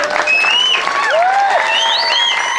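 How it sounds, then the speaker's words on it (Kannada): A crowd applauds at a rural stone-lifting strength contest, loud, continuous clapping mixed with whistles and cheers for the full stretch. "ಜೋರಾಗಿ ಚಪ್ಪಾಳೆ"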